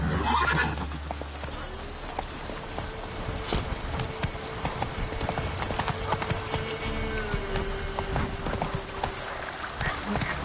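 Hooves clip-clop in a steady galloping rhythm under a faint sustained tone, with a horse's whinny near the start; the horse is Roach in The Witcher 3 game.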